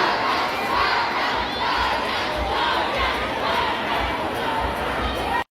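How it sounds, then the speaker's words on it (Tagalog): A dense crowd of thousands of fans screams and cheers at a celebrity mall show, a loud, continuous roar of shrill voices, close and unbroken throughout. "dinagsa ng libu-libong fans ang Jarpiang sa kanilang mall show"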